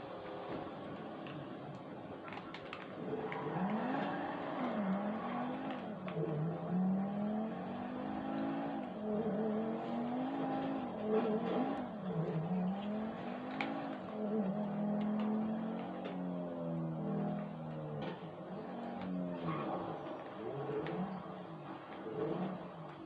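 Car engine in GTA 5 drives steadily with continuous revving that rises and falls as it speeds up and slows, loud and close throughout with no talk.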